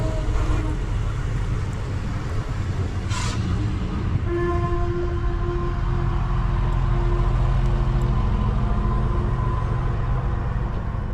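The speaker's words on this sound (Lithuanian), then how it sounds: "atvyksta mano pupsikas, traukinukas ir važiuoju atgal į Marijampolę" A train pulling into a railway station on the Marijampolė line, a continuous low rumble with a steady tonal whine and a brief hiss of air, loud and close, with no talk.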